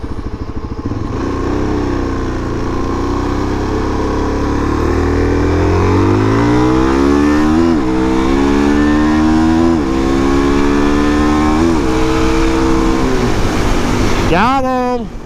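A supermoto motorcycle engine revs hard and climbs through several gears with rising whines, loud and close, while a slower tractor's rumble sits underneath as the bike passes it.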